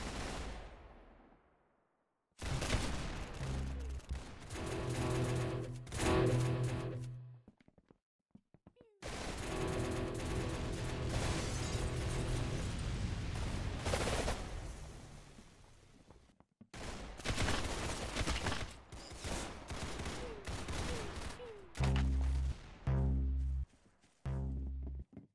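Rapid gunfire in the Roblox-style shooter Arsenal, loud bursts of automatic shots in several long stretches separated by brief silences, with faint game sounds between volleys.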